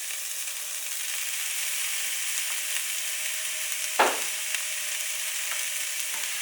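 Cooked black beans sizzle steadily in a hot pan as taco filling, with a brief scraping stir about two-thirds through and no talk.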